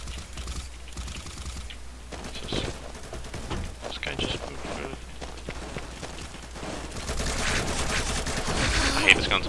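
Rapid automatic gunfire in the first-person shooter Combat Master crackles in dense, repeated bursts throughout, mixed with clattering weapon handling and other game effects at a steady, fairly loud level.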